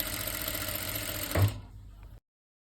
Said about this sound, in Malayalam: നമുക്ക് സ്ലീവിൻ്റെ അറ്റം കൂടി ഒന്ന് മടക്കി അടിച്ചു കൊടുക്കാം കേട്ടോ